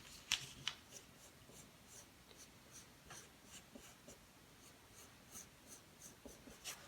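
A pencil scratches steadily across paper, close and quiet, sketching small water drop shapes in a rhythm of short repeated strokes, with no talking.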